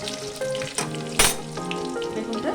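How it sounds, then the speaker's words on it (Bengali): Eggplant frying in hot oil with black cumin seeds and greens in a home kitchen, a steady crackling sizzle with a few sharp spatters and utensil clinks, close and without talk. "বেগুনটা লাল করে ভেজে নেবো।"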